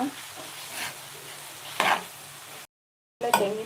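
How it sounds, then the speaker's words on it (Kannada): Avalakki upma, made from flattened rice, is stirred and mixed in a pan: soft, close scraping strokes with a faint sizzle underneath, broken by a short silent gap before more stirring. "ನೀಟಾಗಿ ಮಿಕ್ಸ್ ಮಾಡ್ಕೊಳ್ಳೋಣ"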